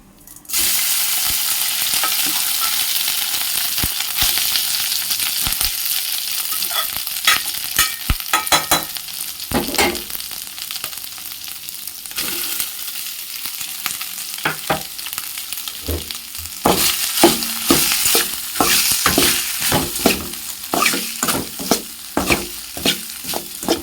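Cold leftover rice stirred and fried in a hot pan, a loud continuous sizzle broken by frequent scraping and clattering spatula strokes that grow busier and more rhythmic toward the end.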